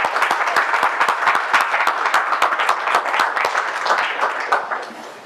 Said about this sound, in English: Would you all join me in applauding these folks for serving our country?